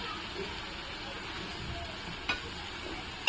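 Chopped green chili tossed into a pan of softened onions for a leafy-greens dish gives a faint, steady sizzle with soft stirring scrapes and two sharp utensil taps.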